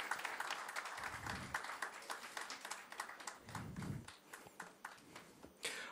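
Audience applause at a civic function welcoming an executive engineer onto the dais: steady, dense clapping from a crowd throughout, fairly even in loudness, with no speech over it.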